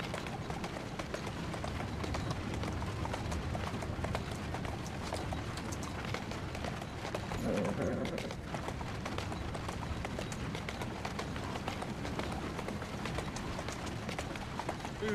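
Horse hooves gallop in steady, rapid clip-clop through the whole stretch in Assassin's Creed Syndicate, set against a constant game soundscape with no talking.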